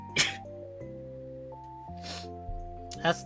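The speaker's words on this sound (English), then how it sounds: "That's like the most normal sounding sneeze I've ever had." A short, sharp sneeze bursts out over steady electronic background music, with a couple of other brief noisy bursts around it.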